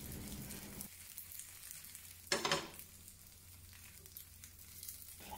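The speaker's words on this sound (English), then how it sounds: "Pan fry the tofu on both sides until golden brown." Tofu pan-frying in oil, a low steady sizzle with a brief louder crackling burst midway, then settling back to a quiet hiss.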